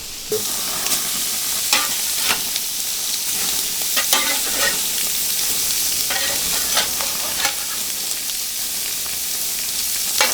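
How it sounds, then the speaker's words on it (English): Beef searing in a hot pan while being browned on the outside, with a loud, steady sizzle and crackle throughout and occasional sharper pops and scrapes of stirring. "it's just really to sear the outside of it"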